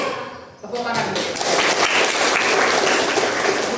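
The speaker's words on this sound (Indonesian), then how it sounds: "Oke, tepuk tangan dulu." A grade ten class of students claps together during a school religious education lesson, starting after a brief pause and swelling into dense, sustained applause with voices mixed in.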